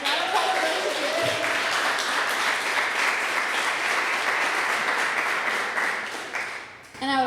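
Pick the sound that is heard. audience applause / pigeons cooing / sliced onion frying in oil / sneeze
audience applause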